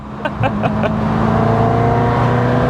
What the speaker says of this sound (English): If only all V8s could sound this good.